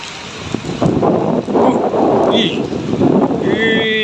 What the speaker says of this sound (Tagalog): Uy, pumapasok na ulan, mababasa na tayo. Ayan na. Wala, lakas ng hangin.